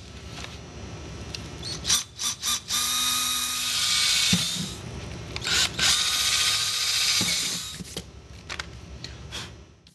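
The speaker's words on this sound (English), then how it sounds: "Remove the bag and drill some holes." A power drill whirs in several bursts, short pulses then longer runs grinding through material, drilling bolt holes for motorcycle saddlebags, close and fairly loud with brief pauses between.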